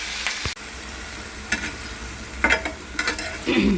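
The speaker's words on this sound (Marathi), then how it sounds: "मग हे सगळे बटाटे त्यामध्ये आपण टाक टाकायचे" Potatoes tipped into hot oil sizzle steadily over a low gas flame while sabudana khichdi is being made, with a few sharp stirring scrapes and clatters at close range and no talk.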